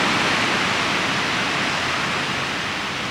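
Ocean waves wash onto a beach in a loud, steady roar of broadband surf that stays constant throughout, with no break or voice.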